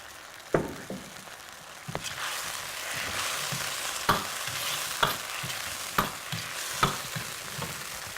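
Potatoes coated with soy, garlic and ginger fry in a pan, a steady sizzle running throughout with periodic louder stirring scrapes and clatters of the spatula.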